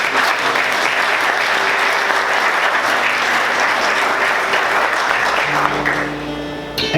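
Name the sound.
applause for the Lord in church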